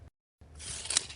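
A tape measure in use during a hardwood floating floor installation: after a brief silence, a quick rising ratcheting zip of the tape blade, close and short.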